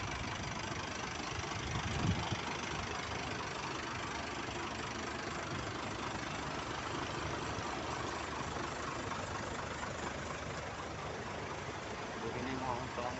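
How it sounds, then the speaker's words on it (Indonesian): An Isuzu Elf truck idles aboard a ferry, a steady, even engine drone that holds for the whole stretch, with people talking over it. "mesin hidup."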